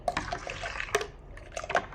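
About 400 ml of water splashes and trickles into a pot of salted bajji chillies close by, with uneven gurgles and small bursts of pouring.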